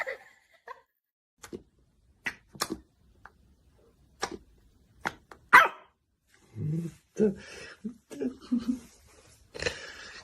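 A small dog puppy gives scattered short barks and low growls at a moderate distance, sharp isolated yelps spread across the stretch, with a person speaking softly in between toward the end.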